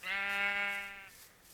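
A sheep in the Minecraft video game lets out a single drawn-out bleat, loud and close, lasting about a second before trailing off into quiet.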